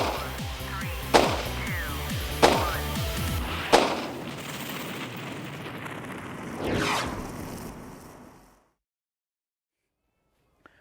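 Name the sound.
airsoft recoil guns firing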